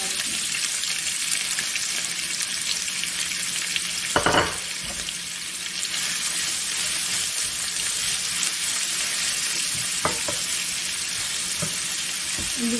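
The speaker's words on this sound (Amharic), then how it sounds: "እዚህ ጋር ትንሽ እንጨምራለን እንጠብሰዋለን ማለት ነው።" Chicken stew ingredients such as onion frying in hot oil in a pan: a steady, bright sizzle running throughout at close range, with a couple of brief clattering knocks and no talk.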